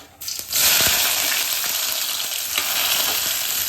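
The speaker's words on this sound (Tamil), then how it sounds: "இது கடுகு பொரிஞ்சிடுச்சு வெங்காயம் போட்டு" Chopped onions drop into hot oil with popped mustard seeds while a jackfruit seed fry is cooked. A loud sizzle bursts in after a brief quiet and then holds as a steady, close hiss.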